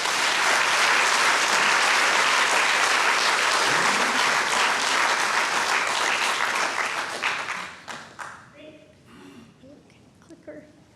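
Audience applause welcoming Professor Sandy Black to the 2024 Downing Public Lecture, a dense, steady ovation from a large crowd that holds strong for about seven seconds, then thins into scattered claps and fades out.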